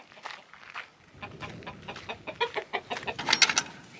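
Backyard homestead chickens cluck in a steady run of short, overlapping calls, growing busier and louder toward the end, heard close by with no talking.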